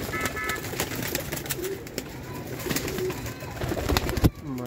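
Teddy golden pigeons cooing softly in a loft amid general clatter and background noise, low repeated coos scattered across a few seconds with no speech.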